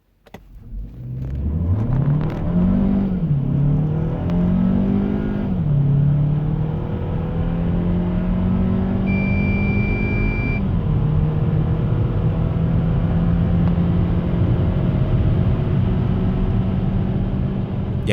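A Hyundai Tucson N Line with the 1.6 T-GDI turbo petrol engine accelerates at full throttle from rest on cold winter tyres. Loud, close engine roar rises through several gears with brief dips at shifts, then holds a strong steady drone.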